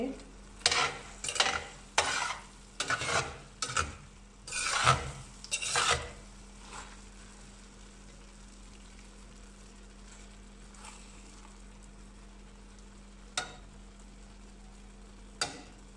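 Rice for prawn biryani being stirred and mixed in a pot, heard as about six loud, scraping strokes in the first six seconds. A faint steady hum follows, broken by two brief clicks.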